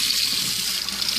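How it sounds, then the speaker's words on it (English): Cold water pours steadily from a Moen faucet into a sink, a close, continuous hiss and splash with no voices. "Now we've got cold water on this side"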